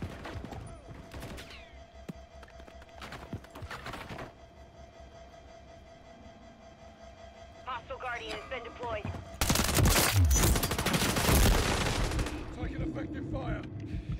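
Gunfire in Call of Duty: Modern Warfare 3 on PS5: scattered sharp shots early, then a loud, dense burst of rapid automatic fire near the end, with game sounds between.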